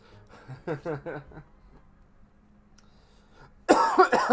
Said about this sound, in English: I still have a cough existing, as you can see